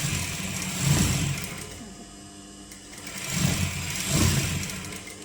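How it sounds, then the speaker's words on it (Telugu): A sewing machine stitches a blouse-style crop top, its fast mechanical whir running continuously and close by, swelling in two louder bursts as the stitching speeds up, with no speech. "బ్లౌజ్ స్టిచ్ చేస్తున్నాను"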